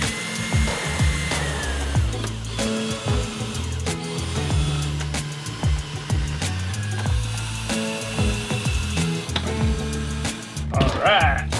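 A power drill whirs in repeated short bursts, stopping and starting as it drills pilot holes and drives screws into wood in an RV, with a voice talking over it.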